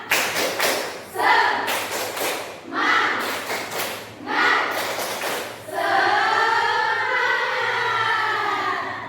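Rhythmic group clapping of the tepuk semangat ice-breaker cheer in a room, several quick bursts of claps in a patterned sequence alongside chanted voices, followed by a long drawn-out collective shout.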